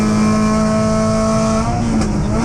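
A blue 1300cc Sprite race car with a fuel-injected BMW K100 engine head drones loud and steady at an MG racing meeting, its engine note holding high before fading slightly as it moves on, with no voices.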